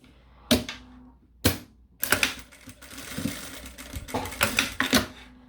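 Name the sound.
sewing machine stitching beside a zipper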